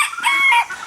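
Chickens at a backyard chicken tractor coop give a short, loud, close burst of clucking and crowing-like calls, alone without talk.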